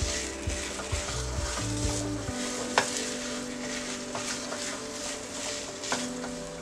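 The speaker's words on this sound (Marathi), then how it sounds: "आता आपण असंच गॅसवर ठेवून देऊया। अधूनमधून परतून घ्यायचं आहे।" Konkani khandpoli rice cake mixture is stirred in a pan over a gas flame: a close, steady sizzle broken by scraping spoon strokes and a few sharp clinks against the pan.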